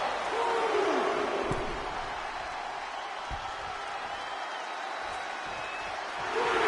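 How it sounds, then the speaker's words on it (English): A large arena crowd at a WWE wrestling event keeps up a continuous roar, swelling louder near the end, with scattered shouts and some talk over it. "However you feel about Seth Rollins, he knows how to get the crowd going"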